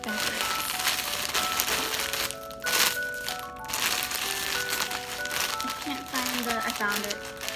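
Crinkly plastic rustling and crackling runs through the clip as a plastic bag holding a plush doll is handled and opened, with music or tones playing underneath.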